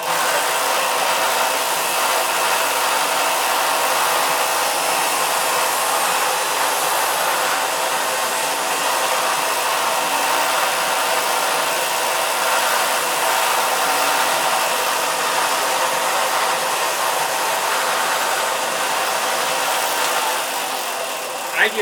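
A disc sander runs continuously while shaping wooden parts for a small boat build, a loud, steady whirring drone that holds for a long stretch before easing off at the end.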